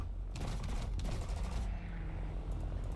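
Aircraft guns on a Nakajima Ki-43 Hayabusa fire in War Thunder simulator mode, a fairly quiet burst of rapid gunfire over steady engine noise, followed by a shorter rattle.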